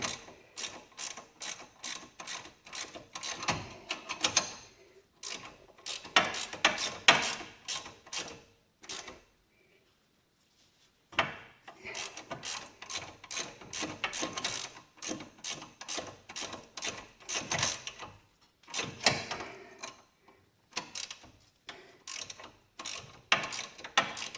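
Rapid bursts of ratchet clicking from a bolt being threaded and drawn in on the right front wheel hub and bearing assembly of a 1998 GMC Jimmy. The bursts come in steady runs broken by short pauses, close and clear, with no talk.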